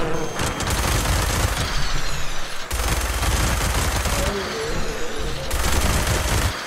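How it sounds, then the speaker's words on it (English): A rapid-fire minigun in the video game Fallout 76 blasts at super mutants, a dense, loud continuous roar of gunfire in long bursts with brief breaks between them. "Let's shoot some super mutants with this."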